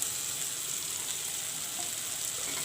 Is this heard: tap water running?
no